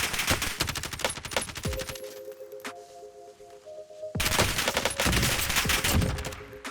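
Kilo 141 assault rifle fire in Call of Duty Warzone: loud, rapid automatic bursts, a sustained volley, a short lull with ringing tones, then another long burst of close fire.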